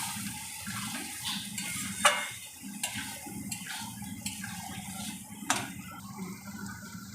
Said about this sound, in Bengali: হালকা জল দিয়ে দিচ্ছি।